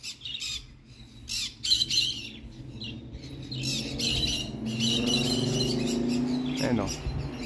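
Pet birds before a free flight session squawking in repeated sharp bursts near the microphone, with softer chirps between and a low background hum, and a faint voice mixed in.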